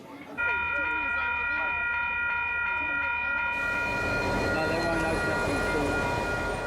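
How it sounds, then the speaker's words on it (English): A train rumbles steadily along the rails throughout, with a sustained multi-tone horn sounding over it, while a voice talks over the start. "His job to take mourners on a specially laid-on train that went from Hamilton to the very heart of the day."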